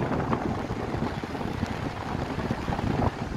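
Strong wind buffets the microphone at the top of a seaside lighthouse, making a loud, continuous roaring rumble with gusty swells and no voices.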